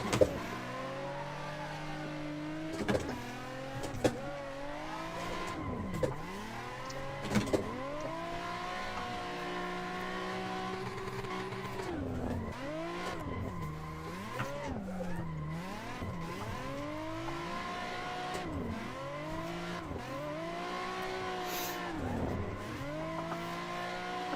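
Nissan 350Z cars drifting in tandem at Klutch Kickers, engines revving and falling in long sweeping pitch swings while tires squeal and skid, loud and continuous with a few sharp knocks.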